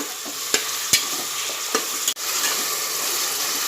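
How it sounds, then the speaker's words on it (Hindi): Onions frying in a pan until browned for mutton dal gosht, a steady close sizzle broken by a few sharp spoon scrapes and clicks as they are stirred, no talk. "प्याज को सुर्ख होने तक हम तलेंगे"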